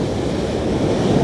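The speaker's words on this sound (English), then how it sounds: "We get a little bit of spray from the ocean when the waves break" Ocean waves breaking on a beach shoreline at Tavira under high surf, a dense continuous low roar with wind rumble, loud and steady.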